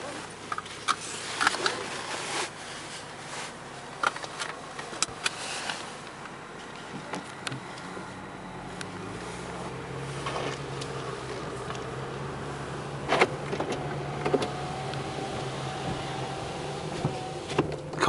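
Interior of a 2006 Mercedes E350 4Matic all-wheel-drive wagon on the move, a low steady road and engine hum with scattered small ticks and rattles in the cabin, fairly quiet throughout with no talking.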